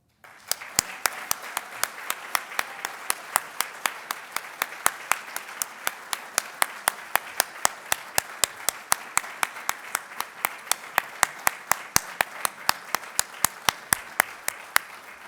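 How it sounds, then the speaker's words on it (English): Audience at a service club meeting claps for an international service award winner, a long run of evenly spaced, crisp claps from a small group, steady and moderately loud throughout. "Please join me in a round of applause for this year's Bert Adams International Service Award winner, Bob Hope."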